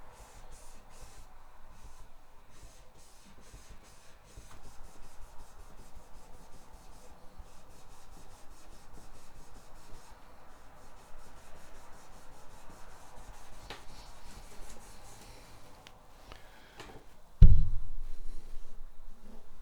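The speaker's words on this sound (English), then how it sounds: "And so now we just wipe off the excess." A cloth wipes excess polish off guitar frets in steady, close rubbing strokes that build gradually, ending in a sudden loud thump followed by softer handling.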